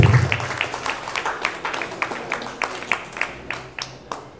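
An audience at an award ceremony for a tournament applauds, with steady overlapping claps forming a dense, moderately loud patter that continues throughout.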